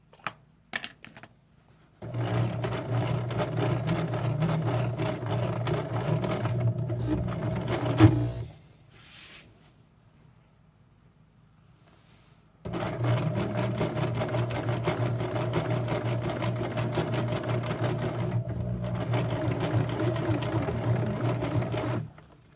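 A sewing machine stitching a tote bag runs in two long, steady bursts of rapid mechanical whirring, close and loud, with a quiet pause between them.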